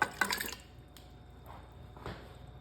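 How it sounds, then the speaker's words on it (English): Fresh water goes into a pot of red beans for Cuban-style red bean soup, a short splashy pour at the start that quickly fades to quiet room tone. "We add 4 cups fresh water."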